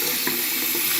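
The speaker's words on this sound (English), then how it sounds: "So I'm going to wash her hair" Running water from a tap washes the synthetic hair of a 70-year-old Ideal Toni walker doll, a steady, close, even splashing flow heard alone without any talk.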